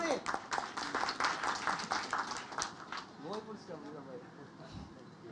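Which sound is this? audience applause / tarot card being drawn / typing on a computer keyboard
audience applause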